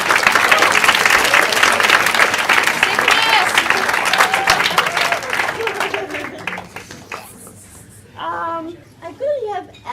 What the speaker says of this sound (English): give a warm round of applause for our next storyteller